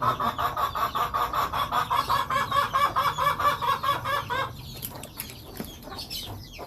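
A chicken clucks close by in a rhythmic run of about a dozen quick, even clucks, then falls quiet amid faint rustling and a few soft knocks.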